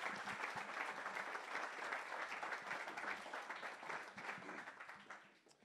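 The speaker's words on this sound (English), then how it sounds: "I think if we can give the panel just a round of applause" A panel audience at a Silicon Cape artificial intelligence tech talk gives a steady round of applause, dense even clapping from a crowd heard somewhat distant and fairly quiet, fading slightly at the end.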